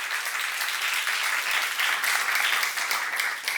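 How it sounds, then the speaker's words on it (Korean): Church congregation at a seminar applauding together, a thick, sustained wave of clapping from many people, steady and fairly loud, with a faint surge midway and no speech over it. "박수 한번 하세요."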